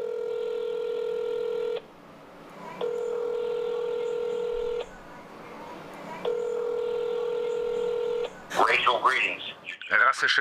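Touch-tone telephone dialing: three long steady DTMF key tones with short gaps, loud and close, followed by a person speaking at the end.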